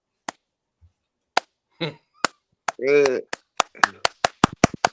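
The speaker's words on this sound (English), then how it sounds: "I got to do a slow clap for Tommy." Hands giving a slow clap, single sharp claps spaced out at first then quickening into a faster run, close and dry, with a person talking briefly between them.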